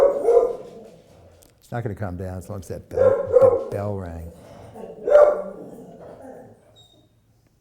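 A house dog barks and yelps in several loud bursts near the listener, interleaved with a person talking.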